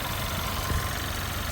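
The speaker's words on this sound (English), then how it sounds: "let's fire up this engine again and do our test" An Audi A1 engine idles steadily with a low, even mechanical hum and slight vibration, close up, with no talk.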